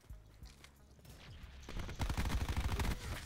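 Pistol fire in Call of Duty Black Ops 4: quiet at first, then a rapid, loud burst of shots packed tightly together in the final second and a half.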